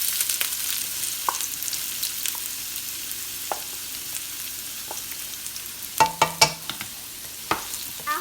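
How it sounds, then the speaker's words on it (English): Chopped onions frying in hot oil for a ground beef pasta, with a steady low sizzle and a few sharper stirring knocks near the end; no one speaks. "after it's heated up, you're going to want to add your onions"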